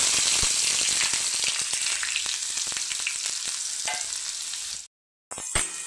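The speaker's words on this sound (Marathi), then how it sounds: "कांदा गुलाबी रंग येईपर्यंत असा परतवून घ्यायचा आहे, जास्त नाही करपवायचा" Onions sizzling in a pan with mustard seeds and cumin, a loud, dense frying hiss with light stirring taps, close up, cutting out briefly near the end before resuming.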